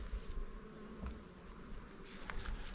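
Honeybees hum and buzz around an open hive during an early-spring apiary inspection, a steady close drone with individual bees passing by the ear.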